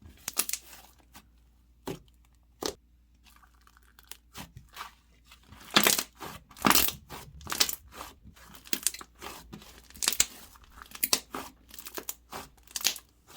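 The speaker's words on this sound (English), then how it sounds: "you can like squish it really hard and it just kind of like flops everywhere" Clay slime is squished and pressed by hand, making close crackling, popping squelches that start sparse and build into a busier, louder run of wet clicks.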